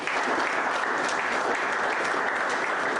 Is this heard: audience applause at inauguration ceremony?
yes